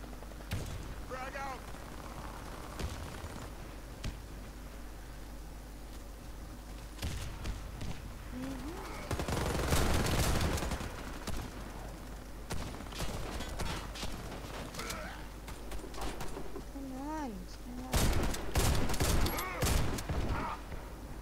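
Video-game gunfire from an online shooter set in Chernobyl: bursts of loud shots come in clusters, with a heavier volley near the end, over steady game ambience and some speech.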